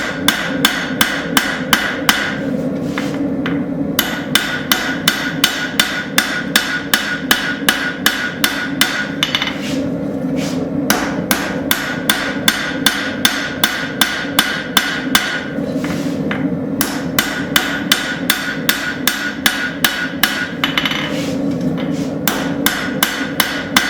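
A railroad spike is hammer-forged into a hawkbill knife, its spine thinned to shape the curve. Rapid, loud, evenly spaced hammer blows ring on steel in long runs, broken by short pauses.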